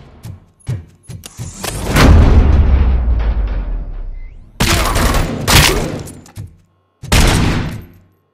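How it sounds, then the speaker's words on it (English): Gunfire and heavy booming blasts in the RoboCop: Rogue City video game, loud and close, coming in several dense bursts separated by short quiet gaps. "Am I hearing gunshots?"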